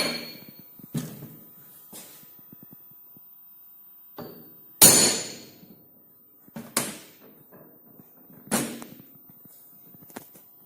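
Several sharp metallic taps ring out at irregular intervals, a few light knocks followed by louder strikes from a center punch marking a hole spot on metal, close up in an otherwise quiet room.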